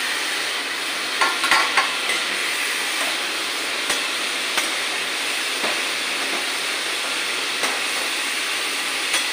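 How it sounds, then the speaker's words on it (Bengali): Chicken pieces fry in a little oil for a restaurant-style masala chicken, giving a steady, close hiss of sizzling with a few soft clicks and scrapes from stirring throughout. "আমি একটু ভেজে নেবো মাংসটা। ভাজতে ভাজতে যখন জল বেরোবে"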